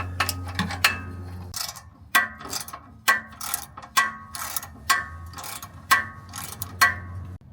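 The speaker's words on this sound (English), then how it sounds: "you just gotta muscle it" A hand ratchet clicks in short repeated strokes while loosening 14mm exhaust bolts on an axle-back exhaust, each pull giving a crisp burst of pawl ticks, close and clear with no speech.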